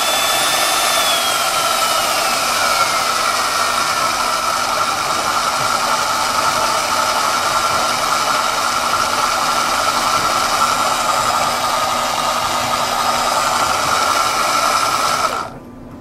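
A drill motor driving an Arduino-controlled guitar pickup winder hums continuously at constant speed with a high whine, then cuts off abruptly at the end.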